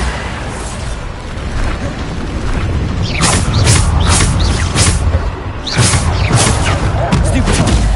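Spell combat in a fantasy duel, a Bombarda blasting spell going off, with booming, crackling bursts and rapid sharp cracks clustering in the second half, loud and close over a rumbling background.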